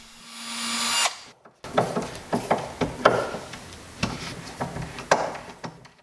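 A power drill drives screws into a wooden hope chest to fit non-mortise lid hinges, giving short whirring bursts and clicks at irregular intervals, close and fairly loud, after a brief high whine.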